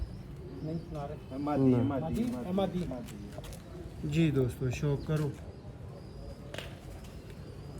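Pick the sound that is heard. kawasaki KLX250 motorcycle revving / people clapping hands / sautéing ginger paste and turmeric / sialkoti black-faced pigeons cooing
sialkoti black-faced pigeons cooing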